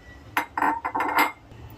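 Washed peas and potatoes are tipped into a pressure cooker, making a short cluster of metallic clatters and rattles against the pot that last about a second, close and fairly loud, with no talking.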